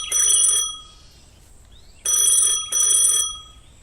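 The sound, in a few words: telephone ringing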